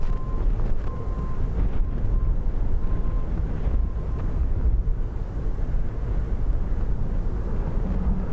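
Strong gusting wind at Dublin Airport during Storm Bram, a loud continuous low roar buffeting the microphone, with a faint steady tone near the start.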